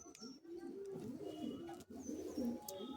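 Male Teddy pigeons coo in low, throaty, repeated calls close by, with a few faint chirps and rustles around them.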